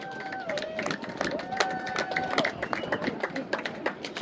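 A tour crowd applauds guide Captain Dave near Old Fort Jackson in Savannah, a steady dense patter of clapping and scattered cheers lasting several seconds with voices mixed in.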